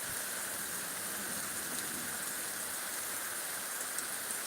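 Rain pours down hard over farm country with no wind, a continuous close wash of drops that holds at one level throughout, with nobody speaking.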